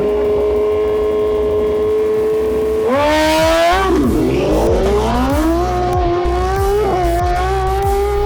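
Race engines at a motorcycle season opening meet in Odesa, one held steady at idle then revving hard and climbing in pitch with tire squeal, loud and close, repeatedly rising and falling through the heat.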